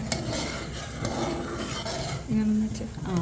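A spoon stirs a thickening mixture in a metal cooking pot, scraping and clinking steadily up close, with a brief voice heard partway through.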